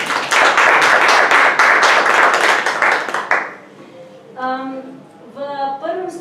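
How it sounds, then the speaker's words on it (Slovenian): Close, loud clapping from a panel discussion audience rings out for about three seconds and then stops abruptly, followed by a voice speaking. "Jaz mislim, da si za uvod naši sogovorniki zaslužijo en toliko pozdravljen aplavz."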